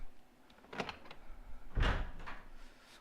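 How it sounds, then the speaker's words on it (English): A door creaks open in the Resident Evil Remake game, with a couple of soft creaks and then a louder swinging thud, heard alone at moderate volume. "we're going to open this door"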